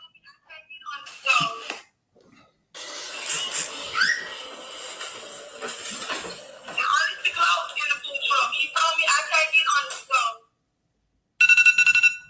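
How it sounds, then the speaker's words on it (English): An electronic alarm goes off in a room, sounding shrill, warbling, whistle-like tones in long uneven bursts, then stopping briefly before one last loud burst at the end. "Why the fuck did this alarm keep going?"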